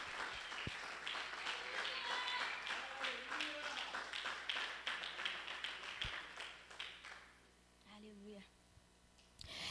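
A church congregation applauds during a Portuguese-language prayer service, a sustained wash of clapping that runs for most of the stretch, dips briefly near the end, then swells again, with a preacher's voice heard over it.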